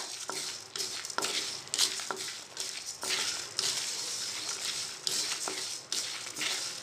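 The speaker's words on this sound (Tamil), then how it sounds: "வெந்தயம் போட்டு ஒரே ஒரு நிமிஷம் சூடாகிற வரைக்கும் வறுத்துக்கோங்க" Lentils, curry leaves and fenugreek dry-roasting in a pan for vatha kuzhambu spice powder, with a steady soft rustle and patter of stirring, brief louder scrapes against the pan at irregular intervals, heard close and alone.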